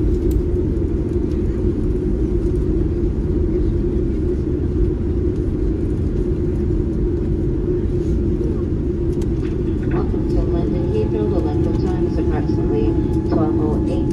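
Boeing 787-9 rolling along a long runway at London Heathrow after landing, heard from inside the cabin as a steady, loud low rumble with some faint higher clatter and cabin sounds, no talking.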